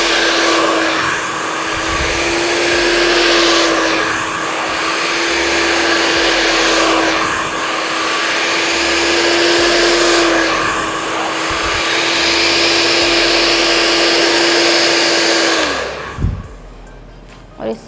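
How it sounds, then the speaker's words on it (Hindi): A hand-held hair dryer blow-dries a layered haircut at home, a steady loud whirring airflow with slight swells as it moves, cutting off near the end with a brief clatter. "और दोबारा से ब्लो ड्राई करेंगे।"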